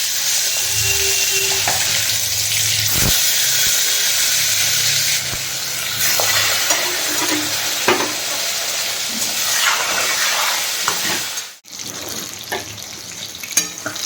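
Eggplant pieces fry in hot oil with a steady, broad sizzle that runs almost the whole time, broken by a few soft clinks and a brief dip near the end.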